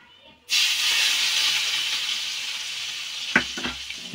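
Red chili tempering with Degi mirch poured into Punjabi mustard greens (sarson ka saag), a sudden loud hiss that rises after a brief silence and keeps sizzling, with a couple of thuds near the end.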